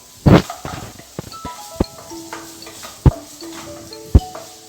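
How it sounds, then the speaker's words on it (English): Onions stirred in a pan for homemade pizza sauce, with scattered spoon clinks and scrapes against the pan over a soft sizzle, close and fairly quiet. "Add the onions. Mix it till the raw smell goes."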